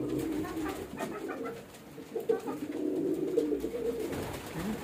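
Pigeons coo softly and repeatedly nearby while eating, their low throaty calls overlapping with faint rustling and pecking in the background.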